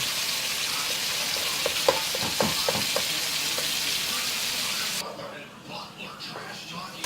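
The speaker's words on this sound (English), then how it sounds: "the turkey is cooking with all the bacon and everything." Ground turkey frying with bacon in a pan, a dense continuous sizzle and crackle with a few stirring scrapes early on, growing quieter near the end while a person talks over it.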